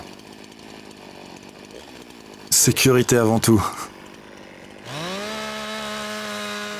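Someone speaks a short phrase in French, then a chainsaw engine starts up and revs to a steady, loud, high whine close by while felling a tree.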